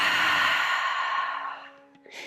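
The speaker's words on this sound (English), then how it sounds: "we have 5 very deep breaths where we're moving in through the nose as deeply as possible and then exhaling through the mouth" A single deep breath is drawn in through the nose and pushed out through the mouth as part of a morning breathwork exercise. The long airy exhale trails off close up, followed by a short soft intake at the end, with no talking.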